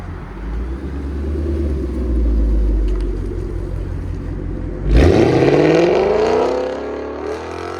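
Revs from a 2021 Ford Mustang GT with a 5.0L V8 and a Corsa Xtreme cat-back exhaust with double H-pipe: a deep low rumble swells, then a sharp loud blip rises and fades away nearby.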